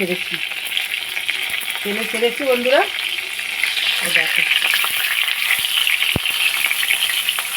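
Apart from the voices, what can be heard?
fish in pumpkin leaf frying in mustard oil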